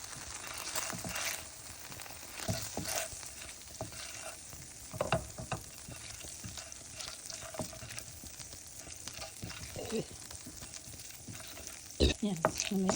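Mushrooms frying in about three tablespoons of melted butter for a creamy pork steak dish, a steady close sizzle with stirring scrapes and clatters throughout, and a sharp clank near the end.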